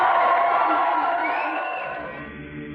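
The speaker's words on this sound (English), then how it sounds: "Another round of applause then for our 3 contestants." Studio audience of a game show cheering and whooping for contestants, a dense loud crowd roar that slowly fades over a few seconds.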